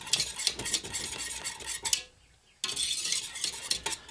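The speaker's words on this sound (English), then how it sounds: "we're just going to stir this up until it comes to like a rolling boil" Utensil scraping and clinking against a pot as a thick mixture is stirred, steady and close, with a brief pause before the stirring resumes.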